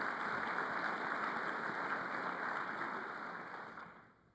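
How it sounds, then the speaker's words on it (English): A crowd at a Kentucky Electric Cooperatives annual meeting applauds steadily, the clapping moderately loud at first before fading away in the final second. "Another round of applause for Nancy."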